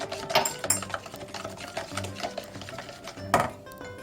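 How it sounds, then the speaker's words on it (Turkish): Cake batter being stirred after vegetable oil is poured in, giving close, irregular scraping and clinking of a utensil against a bowl with a few sharper knocks, moderately loud, no voices. "Güzelce çırptıktan sonra içerisine sıvı yağımızı ilave edelim. Şöyle bir daha karıştıralım."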